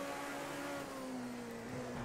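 Race car engine in the Project Cars 2 racing game, a steady sustained drone with a clear tonal hum that shifts slightly in pitch, loud and continuous throughout with no talk.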